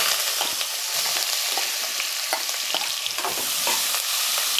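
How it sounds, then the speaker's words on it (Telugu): Chopped onions, green chillies and curry leaves frying in a pan with cumin, a steady close sizzle broken by frequent stirring scrapes, no talking. "ఇవి బాగా దోరగా వేయించుకోవాలండి."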